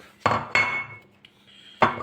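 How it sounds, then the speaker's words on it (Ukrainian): A few sharp clattering knocks of a plate being set down on a hard surface, two close together and one more after a pause. "Так, ставимо на тарілку."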